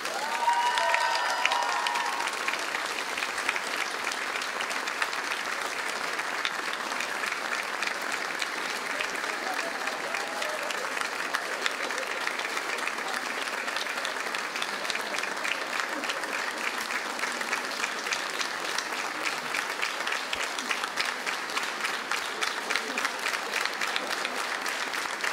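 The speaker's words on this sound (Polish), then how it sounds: "I jeszcze większe brawa dla autora tego koncertu," Sustained audience applause at a school patron's day concert, a dense steady wash of many hands clapping for the whole stretch, with faint voices mixed in near the start.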